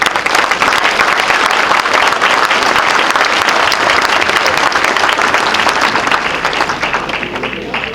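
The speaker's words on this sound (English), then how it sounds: "I want you to clap your hands for them." An audience claps for essential workers, loud dense applause sustained for several seconds and fading slightly near the end, with no voices over it.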